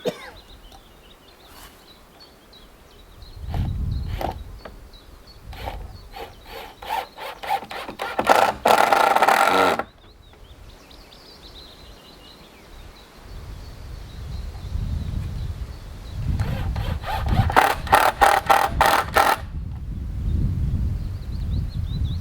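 Screws being driven in to fix a mounting bracket for a Reolink Argus PT Ultra solar-powered wireless pan-and-tilt camera, giving scraping, rubbing turns with bursts of rapid rasping clicks, close and fairly loud.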